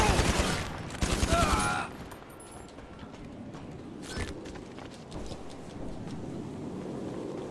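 Video game gunfire crackles in a dense rapid burst at the start, then fades to scattered distant shots and a low ambient rumble, with someone talking intermittently.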